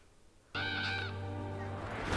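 A crow-like bird caws once in a long, harsh, harmonic call as a warning in the Arcane animated series, loud and close, standing alone against near silence.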